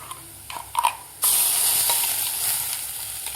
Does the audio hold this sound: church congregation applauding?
no